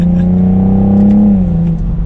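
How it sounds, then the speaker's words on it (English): A 2021 BMW M440i xDrive coupe's turbocharged engine revs up loudly and close, its pitch climbing smoothly before easing off as the throttle is released. "I love the response to this turbo engine."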